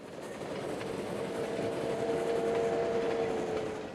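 A train rolls along the rails with a steady, continuous rumble and faint clatter, holding at an even, moderately loud level for the whole stretch with no voices.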